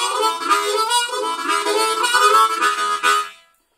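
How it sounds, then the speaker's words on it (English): Harmonica draw on the four hole, shaped with a spoken-style "wata" articulation, giving a continuous wavering reedy tone with slight pulses, close and alone, fading out at the end. "I'm drawing on the four hole and I'm saying like a wata."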